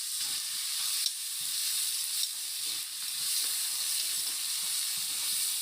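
Tomatoes frying in a pan for tomato chitranna rice, a steady close sizzle with soft stirring taps underneath.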